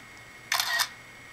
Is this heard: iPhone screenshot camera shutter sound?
yes